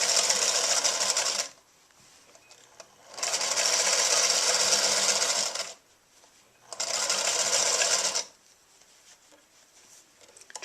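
Sewing machine running in three sustained bursts while back-stitching and stitching forward along a knitted steek, each steady whirring run lasting about one to three seconds with short quiet pauses between, close and loud with no talk.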